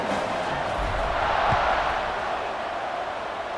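Steady, dense roar of a stadium crowd cheering at kickoff in a college football video game between Iowa State and Oklahoma, sustained at an even level throughout with no distinct voices.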